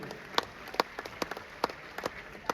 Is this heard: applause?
yes